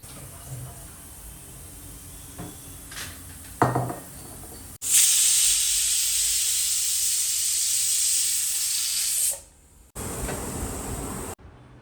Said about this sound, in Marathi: इथे फायनली शिट्टी झाली कुकरची